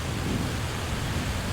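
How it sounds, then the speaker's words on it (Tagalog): Heavy rain pours down steadily over a roof gutter during a storm, a dense, continuous roar with no clear break, and low rumbling underneath that may be thunder. "Yan, ulan na, lakas na ulan."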